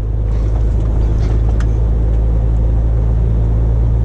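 Heavy delivery truck cruising along a French road, a loud, constant low engine rumble and road drone heard from inside the cab with no speech.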